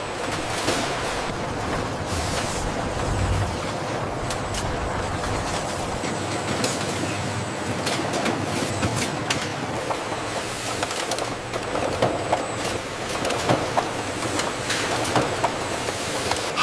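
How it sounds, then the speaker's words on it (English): Papaya smoothie bottle packaging line machinery running continuously, a dense clattering rattle of conveyors and mechanisms with rhythmic clicks, loud and close throughout. "Precision and speed define our advanced packaging lines."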